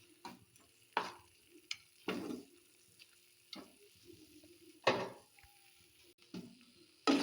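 A spoon scrapes and stirs spice paste with a little sugar in a pan, the strokes coming as sporadic, fairly faint scrapes and taps over a quiet, low sizzle, with no talking.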